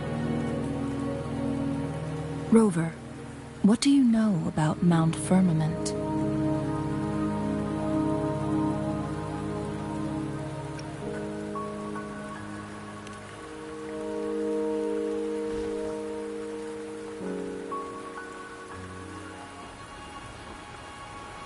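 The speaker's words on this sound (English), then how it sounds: "Don't worry, the rain won't last much longer." Rain falling in the Wuthering Waves video game as a steady wash beneath layered game music and effects, with a spoken line of dialogue early on.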